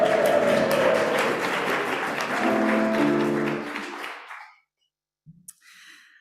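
Audience applause and cheering for the Maccabees at a congregation's celebration, a loud dense burst of clapping with voices that fades out after about four seconds, followed by a few faint scattered sounds.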